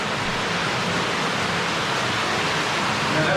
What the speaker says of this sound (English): we're going back in this cave. And I can hear a waterfall